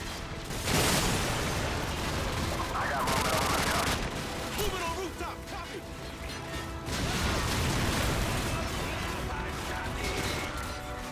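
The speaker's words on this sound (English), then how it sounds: "Grenade." Grenade blast amid heavy gunfire in the video game Call of Duty 4 campaign, a loud burst followed by rattling rifle and machine-gun fire and crashing debris, continuing in waves.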